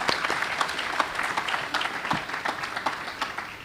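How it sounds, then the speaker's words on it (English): An audience applauds honorees at a bar association justice event, a continuous rattle of many hands clapping at moderate distance, dense and even throughout. "Again, round of applause for Megan and Victoria."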